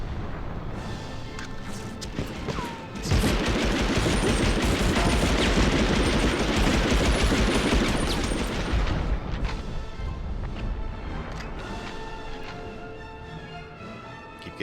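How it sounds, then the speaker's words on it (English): Machine gun fire in the PS1 game Medal of Honor bursts in at about 3 seconds as a loud, dense, sustained rattle. It fades gradually after roughly 9 seconds, and there is no talk over it. "When I have the machine gun"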